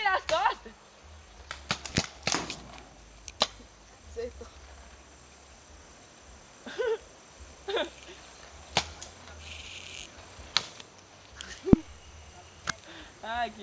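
Paintball markers fire during a birthday paintball game: a scattered run of sharp, snappy pops at uneven intervals, some close and loud, with people shouting and talking between shots.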